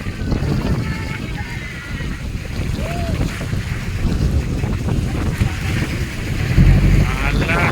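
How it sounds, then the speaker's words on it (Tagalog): Strong waves slap and wash against a small boat, heard from on board with heavy wind buffeting the microphone and a steady engine-like rumble, while people talk over the surging water. "Lakas pa ng alon."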